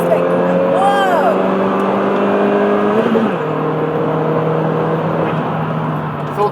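A Renault Twingo 1.2T GT hatchback drives around roundabouts, its engine drone steady and close, with pitch shifts as it accelerates through the turns and road noise underneath.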